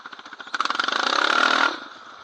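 A Honda TRX700XX ATV engine revs up in quick pulsing bursts that climb to a loud sustained snarl while spinning 360 donuts, then drops back to a lower throb.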